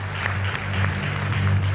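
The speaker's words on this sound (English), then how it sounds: "clap one more time for Fact Jam" Audience applause after a startup pitch at Disrupt NY 2017, a dense, steady round of clapping over a low hum from the venue's sound system.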